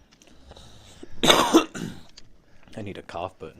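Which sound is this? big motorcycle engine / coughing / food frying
coughing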